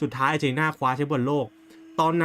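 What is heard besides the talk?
No everyday noise stands out behind the speech.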